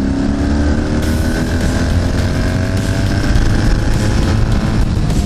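A Honda V65 Magna and a Suzuki GV 1200 Madura race side by side in fifth gear, a loud, dense, unbroken engine roar held close throughout with no voices.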